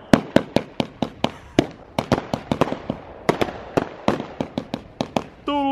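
Firework rockets ignited on an army training ground crackle and pop in a rapid, loud string of sharp bangs, densely repeating throughout at close range.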